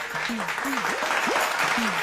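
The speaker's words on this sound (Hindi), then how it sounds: "नहीं, अभी ताली मत बजाइए, अभी ठहर जाइए।" Dense, steady applause from a crowd at a political rally or speech lasts about two seconds, with a voice rising and falling over the clapping.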